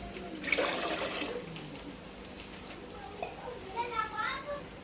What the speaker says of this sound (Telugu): వాటర్ యాడ్ చేస్తున్నాను.